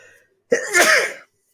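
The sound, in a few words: sneeze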